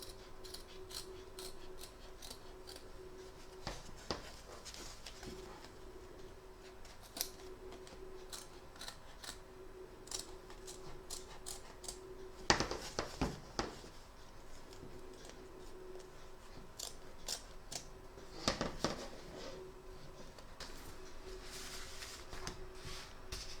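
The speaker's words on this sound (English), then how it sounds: "Trim around the edge." Scissors snip repeatedly around the edge of a large double-sided Santa appliqué freed from an embroidery hoop, crisp cuts coming in short bursts with brief pauses, close and clear over a soft steady background hum.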